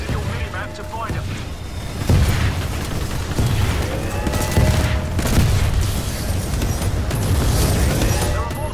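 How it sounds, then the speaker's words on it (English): Dense, continuous battle din of mortar titans bombarding the harvester in the Titanfall 2 video game: overlapping booms, blasts and gunfire bursts at steady high loudness, with a voice talking throughout. "The harvester's getting barraged by mortar titans"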